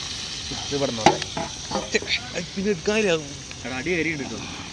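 Tomatoes cook down in a large pan with a steady close sizzle and repeated stirring scrapes, while a person talks throughout over the cooking noise.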